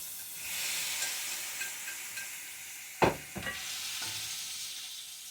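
Tomatoes frying in a pan over moderate heat, a steady soft sizzle with a few scraping stirs and utensil knocks near the end.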